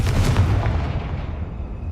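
Spell explosions from the Hogwarts Legacy video game, Bombarda and Confringo, burst as a deep, booming blast that rumbles loudly and then fades, with no voices over it.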